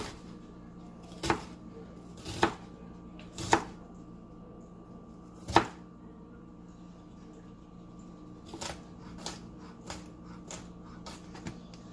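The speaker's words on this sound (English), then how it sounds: "So I cut them into slices. After that, I'll cut them into quarter pieces." Knife chopping a bell pepper into quarter pieces on a cutting board: four sharp, well-spaced cuts in the first half, then a quicker run of softer chops near the end, close and clear against a quiet room hum.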